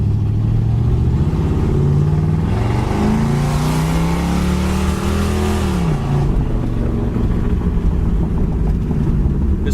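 A black 1981 Pontiac Trans Am with a 455 V8 and no mufflers runs loud and close, its deep, steady rumble swelling in a rev before it settles back to a throaty idle.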